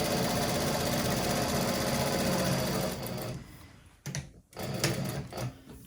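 A sewing machine runs steadily and loudly while stitching a channel on a handbag lining, then stops and gives a few short final bursts.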